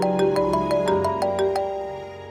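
A mobile phone ringtone plays a bright, repeating melodic pattern of sustained tones with regular soft taps, holding at a steady moderate level for about two seconds before easing slightly, with no talking over it.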